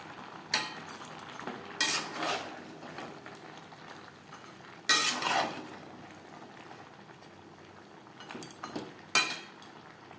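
A spoon stirs mixed vegetables with pointed gourd and jackfruit seeds in a pan over a sizzling simmer, giving intermittent metal scrapes and clinks against the pan, close and moderately loud, with no talking.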